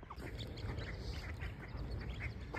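Ducks and black water birds calling on a park pond, a busy chorus of quacks and squawks over steady outdoor background noise, heard without talk.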